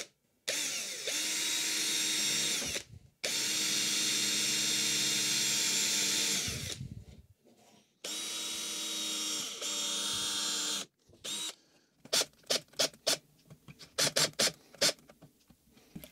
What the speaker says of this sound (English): These holes I'm just going to drill by hand.